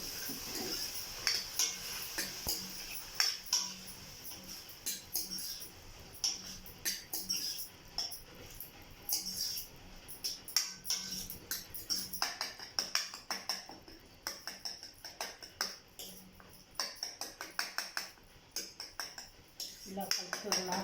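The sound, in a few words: spoon stirring salt into drumstick curry mixture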